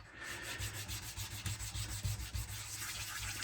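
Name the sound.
lapping a diamond resin stone on silicon carbide stone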